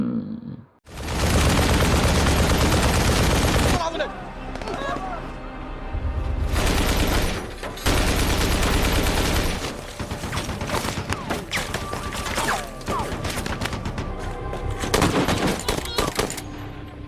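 Heavy gunfire from a SWAT battle against rebels, with dense sustained automatic bursts and booming shots, loud and close, broken by short lulls, with a voice speaking over parts of it.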